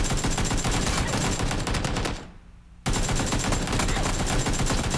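Dense automatic gunfire in the shooter game PUBG, loud rapid bursts filling the whole stretch, with a short near-silent gap in the middle before the shooting resumes just as intensely.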